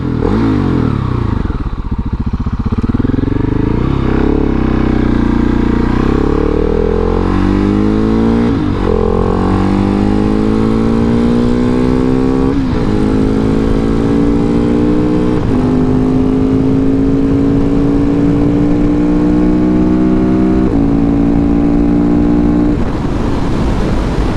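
Engine of a 2019 KTM 690 SMCR motorcycle revving up through rising tones, with brief drops between pulls and steady close exhaust noise, loud and alone without talk.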